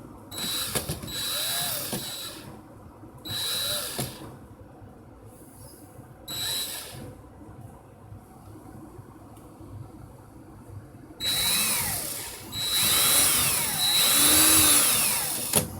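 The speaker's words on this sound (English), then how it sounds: "Put my drill in reverse." A power drill running in reverse to remove a wire whirs in short bursts with pauses between, then runs longer near the end, close and loud, with a high whine over the motor.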